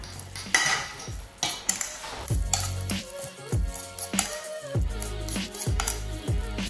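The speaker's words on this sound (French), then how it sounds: "Je mélange." A utensil stirs mashed sweet potato with coconut milk, coriander and olive oil, giving repeated scraping and clinking strokes against the pot or bowl in an irregular rhythm, close and fairly loud, with no talking.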